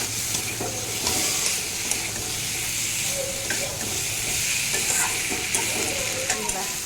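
Vegetables, papaya and potato among them, fry in a pan with a continuous close sizzle and hiss, while repeated scraping strokes of a spatula stir them.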